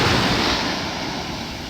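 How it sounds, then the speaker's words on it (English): Waves surge and wash steadily onto a beach beside rocks and a jetty, a continuous broadband roar of surf with some wind noise, fading slightly over the short stretch. "you can see waves crashing up on those rocks"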